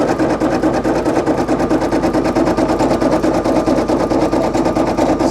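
A Brother PE800 embroidery machine stitches out a Ghostbusters patch, its needle hammering in a rapid, steady mechanical rhythm, loud and close, without pauses or voices.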